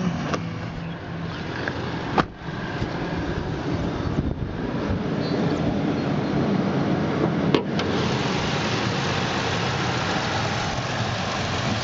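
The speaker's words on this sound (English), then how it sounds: "See, the motor runs great." A 2000 Ford F-150 pickup truck's engine runs steadily at idle with the hood open, a constant loud low rumble with occasional thumps and some wind noise, no talking.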